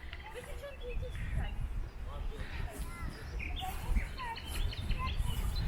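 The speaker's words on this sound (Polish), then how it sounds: "A jak ptaszki ćwierkają." Several birds chirp and tweet in short, scattered calls over a soft outdoor background in an arboretum in Racibórz, Poland, fairly faint and steady throughout.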